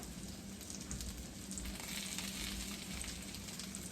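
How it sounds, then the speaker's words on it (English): Sausage sizzles and fries in a pan at home, a dense, steady crackle and hiss that continues evenly throughout. "And I've got the sausage sizzling."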